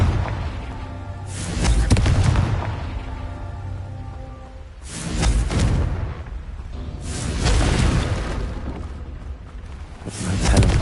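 Blasting spell explosions cast in Hogwarts Legacy, with several loud booming bursts that swell and fade over a low rumble.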